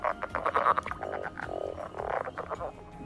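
A small green spotty frog from the Grand Canyon region croaks in rapid pulsing bursts, close and fairly loud, forming repeated trilling calls across the stretch.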